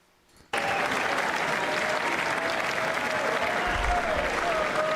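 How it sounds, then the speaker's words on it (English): Sustained, dense applause from a large chamber audience at the 2026 State of the Union address, starting abruptly after a brief quiet moment and continuing steadily loud throughout. "it's just more clapping right now"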